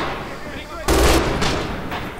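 An MG 42 machine gun fires in Red Orchestra 2, a loud close burst followed by a few more heavy booming shots in quick succession, with a voice talking over it.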